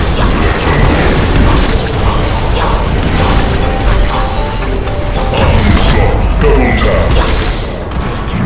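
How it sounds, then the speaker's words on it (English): A tower crumbling in the Heroes of Newerth battle arena, with heavy crashing booms and grinding mechanical debris sounds rolling continuously over a dense, loud mix of combat effects. "Hellbourne have destroyed a legion tower"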